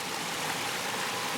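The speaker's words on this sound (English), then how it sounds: "get an incredible view of those waterfalls" Water from a garden pond waterfall, in a former swimming pool made into a pond, flows with a steady, soft, even rush, with no voices.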